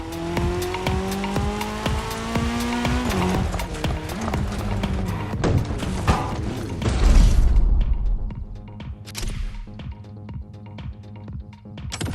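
Red Bull RB20 race car in the video game The Crew Motorfest, engine revving and shifting with rising whine, tire squeals, then settling into a lower, rumbling drive with sharp clicks.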